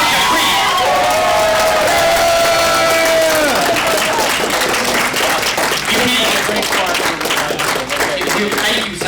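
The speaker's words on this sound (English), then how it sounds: "I want to stand up and give this man an applause." Audience in Ohio bursts into loud, sustained cheering and applause for Dr. Creep, with whoops and clapping that stay dense and close throughout while an amplified voice rises briefly over the start.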